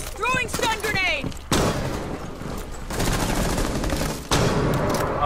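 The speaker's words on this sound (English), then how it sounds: "Throwing stun grenade!" Stun grenade blast followed by dense gunfire in the tactical shooter Rainbow Six Siege, loud bursts of shots with sharp onsets, game voice chatter mixed in.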